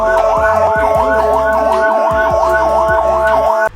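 Loud, close emergency ambulance siren in traffic in Indonesia, wailing in rapid repeating up-down sweeps alongside a steady electronic tone and pulsing horn-like blasts for the whole stretch.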